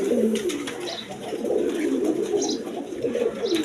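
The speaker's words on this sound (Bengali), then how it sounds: "দর্শকবৃন্দ এখানে এক পেয়ার রেড কালার আপনার সিরাজি লাহুরি আছে দেখেন কবুতরগুলো কোয়ালিটি সম্পন্ন কবুতর" A pair of red Sirazi Lahori pigeons coo close by in repeated low, throaty rolls, with soft rustling and faint background noise around them.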